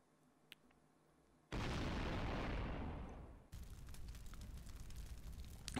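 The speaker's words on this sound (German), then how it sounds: "Wieder so ein toller Explosionseffekt." A loud explosion sound effect in the Final Fantasy VII video game bursts in suddenly, a broad roaring blast that slowly fades over about two seconds before giving way to busy crackling noise.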